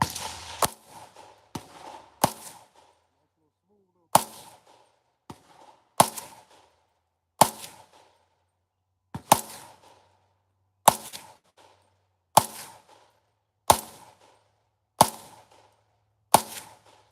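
Sharp, loud gunshots ring out one at a time about every second or two across the clip, each a crisp crack with a short decay and near-silent gaps between shots.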